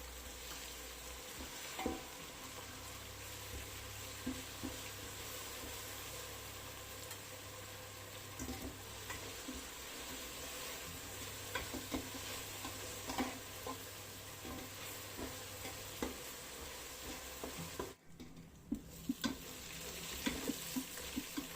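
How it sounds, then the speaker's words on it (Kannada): Ginger garlic paste frying with browned onions in a pot, a continuous soft sizzle with occasional stirring scrapes and clinks, close and fairly quiet, a brief dip near the end. "ಶುಂಠಿನ ಚೆನ್ನಾಗಿ ಫ್ರೈ ಮಾಡ್ಕೊಳ್ಬೇಕು. ಹಸಿ ವಾಸನೆ ಹೋಗೋ ತನಕ ಚೆನ್ನಾಗಿ ಫ್ರೈ ಮಾಡ್ಕೊಳ್ಬೇಕು."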